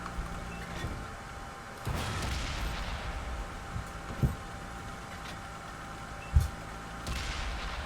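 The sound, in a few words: tank cannon firing in video game World of Tanks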